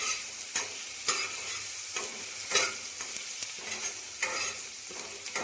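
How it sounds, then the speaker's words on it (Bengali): Garlic paste sizzles steadily in a hot pan while a spatula stirs it in repeated scraping strokes, close and moderately loud, with no voices. "রসুনটা লাল লাল করে একটু ভেজে নেব।"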